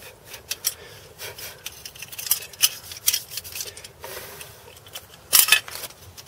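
A blade scrapes crusty buildup out of a wheel bearing housing, a series of gritty scraping strokes at irregular intervals with a few sharper metallic scratches, close and moderately loud.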